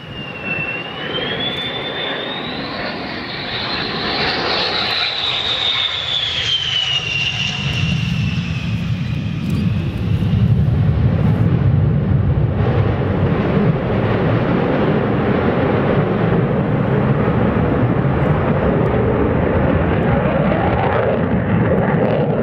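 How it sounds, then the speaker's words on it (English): An F-111 jet doing a dump-and-burn pass at an air show, with a loud turbine whine that rises and falls, then swells into a deep, roaring afterburner rumble that continues steadily as the jet passes. "This F-111 shooting huge flames,"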